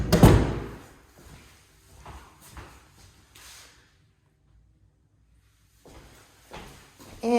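A coat closet door in a house slides open with a sharp thud at the start, followed by faint rolling and rattling that fades to quiet, then soft footsteps and movement.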